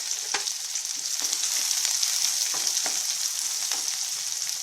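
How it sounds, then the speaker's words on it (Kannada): Mustard seeds spluttering and popping in hot oil as curry leaves and finely chopped onion are added for a North Karnataka barta, a steady loud sizzle with scattered sharp crackles throughout, no voices. "ಸಾಸಿವೆ ಸಿಡಿತಾ ಇದೆ ಕರಿಬೇವಿನ ಸೊಪ್ಪನ್ನು ಹಾಕ್ತಾ ಇದ್ದೀನಿ ಒಂದು ಈರುಳ್ಳಿನ ಸಣ್ಣದಾಗಿ ಕಟ್ ಮಾಡಿ ಇಟ್ಕೊಂಡಿರೋದು ಹಾಕ್ತಾ ಇದ್ದೀನಿ"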